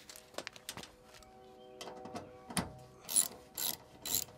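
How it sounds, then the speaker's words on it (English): A ratchet wrench clicks in several short bursts while bolts are backed out of the wheel wells of an SRV storm-chasing vehicle, close and fairly quiet, with no voices. "Just taking out the bolts so we can lift up the wheel wells to jack it up"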